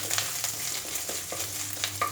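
Grated ginger fries in a pan for a paneer and carrot gravy curry, giving a close, continuous crackling sizzle with soft stirring scrapes and no talking.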